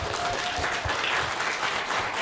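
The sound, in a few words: audience applause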